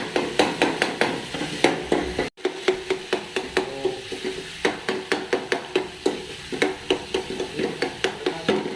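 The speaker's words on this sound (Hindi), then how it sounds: "मूंगी की दाल के साथ मैं अब ये बना रहा हूँ, तड़का लगा रहा हूँ।" Spices sizzling in hot oil while tempering moong dal, under a steady, rhythmic tapping of a spoon against a pan, repeating close by throughout.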